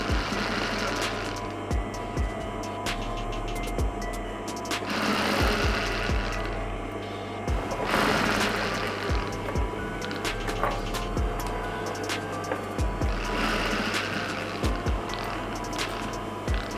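Sewing machine stitching a princess-cut blouse, running in steady fast bursts of mechanical chatter with short pauses between runs as the fabric is turned; close and continuous, no talk.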